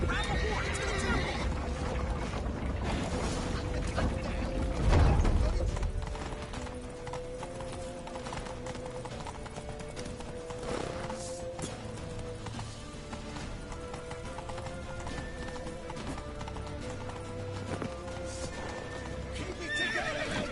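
Horse hooves clip-clop in a steady gallop in The Witcher 3, with whinnies and neighs over a background of music and game sounds.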